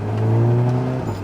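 Perodua Myvi overtaking an Audi TT on the road, heard from inside the Audi as a loud steady engine drone with a sustained whir and tonal hum, no voices over it.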